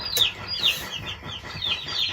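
A chicken clucks close by in a string of short, repeated squawky calls over a low background murmur.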